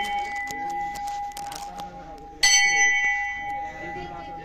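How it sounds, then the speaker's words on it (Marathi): A metal temple bell rings at the Valmiki Rishi samadhi shrine on Ajoba Parvat, a sustained bright tone struck again partway through with a louder clang that rings on, while people talk nearby. "घंटा वाजूया."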